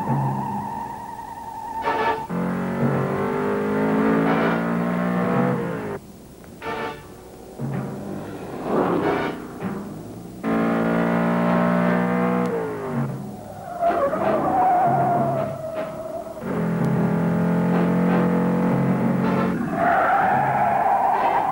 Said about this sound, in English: Our driver twisted this Challenger every way but loose